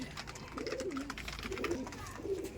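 Kaldom pigeons coo softly, a few low, rolling calls repeating over faint background hiss, with no voices.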